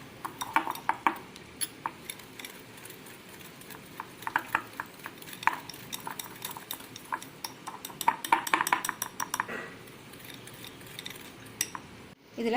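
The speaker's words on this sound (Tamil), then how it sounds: "நான் விஸ்கி யூஸ் பண்ணி செஞ்சு காட்டணுங்கிறதுக்காண்டி விஸ்கி யூஸ் பண்ணுறேன்." A hand whisk beats a biscuit cream mixture in a bowl, giving quick, fairly regular metallic clinks and scrapes in bursts, close up and moderately quiet, with a brief pause near the end.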